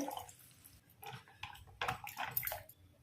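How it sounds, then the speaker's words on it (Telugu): Water is poured into a mixer grinder jar while making a cashew paneer masala gravy, giving faint, uneven splashing and trickling bursts that are quiet and close. "ఈ మిక్సీ పట్టుకున్నటువంటి జార్లో కొంచెం వాటర్ వేసుకొని తొలిపి పోసుకోవాలి"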